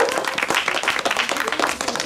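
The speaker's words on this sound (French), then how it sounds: "je propose que déjà on fasse un tonnerre d'applaudissements pour les radioamateurs qui nous ont gentiment" Applause for amateur radio operators at a Jamboree on the Air event in Wavreumont, a dense, continuous patter of many hands clapping together at close range, steady and lively throughout with no voices over it.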